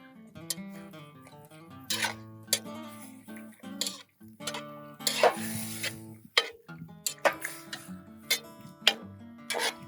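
A spoon scrapes and clinks against a Dutch oven while spices are stirred into green chili stew, giving irregular metallic taps and scrapes with soft sizzling underneath.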